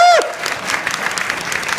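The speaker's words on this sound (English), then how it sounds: "So you cheer now" Applause and cheering rise from a crowd at a vegan festival speech in London in 2017. A short whistle opens the moment before a steady patter of clapping carries through.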